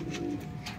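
A large tail-feathered pigeon coos softly and briefly, one low murmuring call close by.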